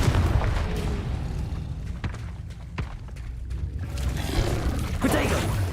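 Confringo blast spell effect from Hogwarts Legacy, a dense roaring burst with sharp cracks partway through and a swelling crackle near the end, loud and continuous throughout.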